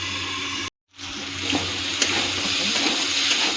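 Peas and spices fry in a pan with a steady, loud sizzle, briefly cut off by a short gap, then resuming with occasional pops and stirring.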